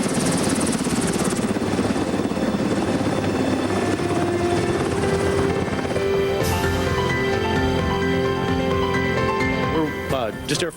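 A small Air Force rescue helicopter thumps loudly and steadily up close, its rotor and engine drone filling the whole stretch, with a sharp change in tone near the end.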